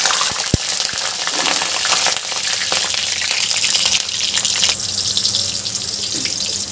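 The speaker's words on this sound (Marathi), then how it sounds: "हे सुरण सुद्धा छान खरपूस तळून घेते मी।" Pieces of elephant foot yam (suran) deep-frying in hot oil over a high flame, a loud continuous hiss and crackle with a sharp knock near the start.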